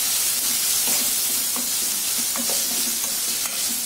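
Raw banana pieces being stirred with salt in a hot pan, a loud continuous sizzle with repeated light scraping and tapping of the spoon against the pan.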